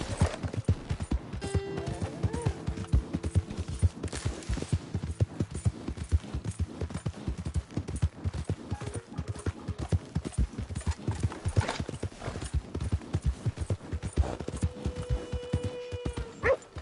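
Horse hooves trotting in a steady clip-clop rhythm in the video game Red Dead Redemption 2, close and continuous, with a brief whinny and faint background tones.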